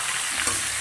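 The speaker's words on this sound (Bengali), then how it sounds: "আমি অল্প তেলেই কিন্তু ভেজে নিলাম" Katla fish, head included, fries in a little oil in a pan, making a steady, loud, close sizzling hiss for a brief moment.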